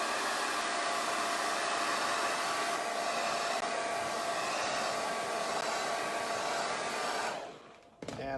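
A hair dryer blows steadily and loud on wet paint on a paper tiki mug, a continuous whooshing roar that holds for about seven seconds before cutting off abruptly near the end.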